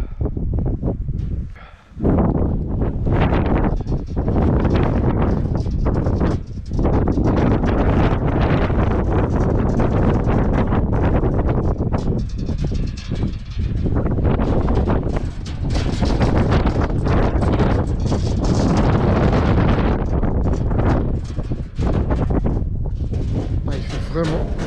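Strong, steady mountain wind on Mont Vial roars and buffets the microphone for the whole stretch, with only a brief lull near the start.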